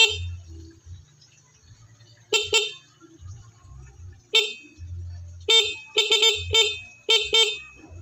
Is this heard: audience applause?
no